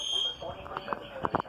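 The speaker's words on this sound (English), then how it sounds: "Freaking fire alarm's going off." A taped-over fire alarm, set off by severe storms, sounds a steady high electronic tone at moderate level, with a person talking and scattered background noises.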